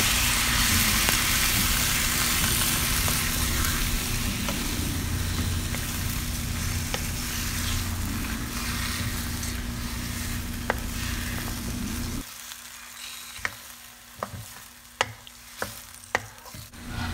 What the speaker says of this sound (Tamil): அந்த 5 தக்காளியை போட்டு நல்லா வதக்கிடலாம்.